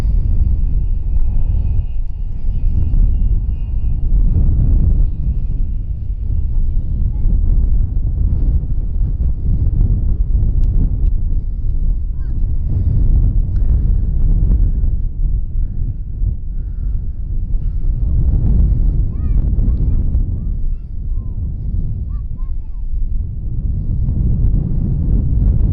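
Strong wind at Birmingham Airport on a windy afternoon, roaring and buffeting the microphone in a continuous loud, low rumble that swells and dips for the whole stretch, with a faint distant aircraft drone mixed in.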